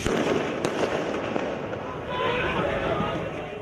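Fireworks bursting amid street protests in Beirut, Lebanon, a steady crackle and pops over dense crowd noise, with one sharp bang early and voices throughout.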